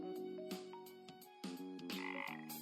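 Frogs in the video game Legends of IdleOn croak in a quick series of bright, tonal game-style blips and chirps, layered with short clicky effects, close and fairly faint with no talk.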